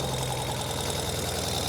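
A 2023 Ural Gear Up 2WD sidecar motorcycle engine running just after starting, a faint, steady low rumble with even mechanical pulsing throughout the short moment.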